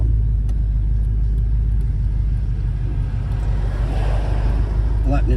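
A V8 Ford Falcon driving and shifting by itself, with a loud continuous low engine rumble and road noise throughout and a subtle change in tone as it shifts partway through.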